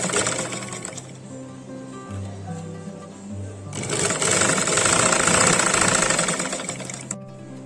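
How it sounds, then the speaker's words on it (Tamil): Sewing machine stitching along the lightly folded edge of an eight-panel skirt. The motor hum comes in short bursts, followed by a louder, continuous run of rapid stitching at close range. "இப்படியே லைட்டா ஃபோல்ட் பண்ணி அந்த எட்ஜிங்ல அடிச்சுட்டே வரணும்"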